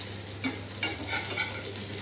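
Fish and onion frying with spices in a pan, stirred now and then, giving a soft steady sizzle with a few faint scrapes and clinks, close but quiet.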